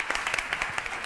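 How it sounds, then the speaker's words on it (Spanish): A round-table audience at a communication conference gives brief applause, a quick burst of scattered, fairly close hand claps lasting about a second. "Vamos a darle un aplauso."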